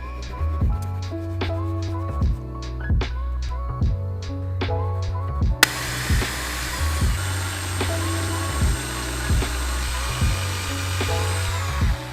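Electric drill pre-drilling holes into a wooden panel for a wall organiser, a series of short whining bursts that rise and fall in quick succession, close and loud, with a sharp knock midway.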